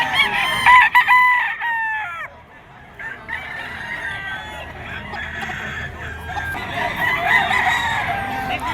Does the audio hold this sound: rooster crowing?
yes